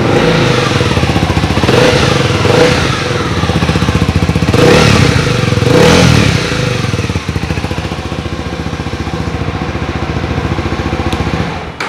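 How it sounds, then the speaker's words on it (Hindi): A Honda CB300R motorcycle's engine idles and revs through its exhaust, loud and close, with a few throaty swells followed by a steady rapid idle. "काफ़ी पावरफुल एग्जॉस्ट नोट है,"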